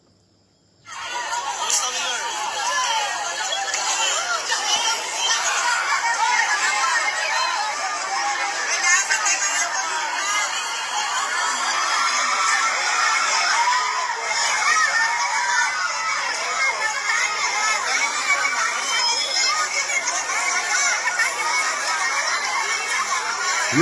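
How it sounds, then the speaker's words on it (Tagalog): A large crowd at Sara Duterte's visit to Cebu roars steadily for over twenty seconds, a dense wash of shouting, cheering and chatter that starts abruptly and stays loud throughout. "Ang crowd po during the Cebu visitation ni Inday Sara Duterte."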